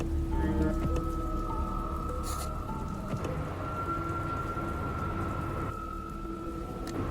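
Steady rain in the post-apocalyptic trucking game Dustland Delivery falls as a dense, even hiss with scattered droplet patter, continuous throughout with faint tonal game ambience underneath and no voices.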